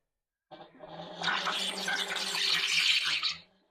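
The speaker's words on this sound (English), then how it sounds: "I'm pushing gas in, CO2 gas in, and releasing the pressure out" Carbon dioxide hisses as it is pushed into a beer fermenter and released through a pressure valve during a low-oxygen purge, a continuous loud gushing rush lasting about three seconds before cutting off.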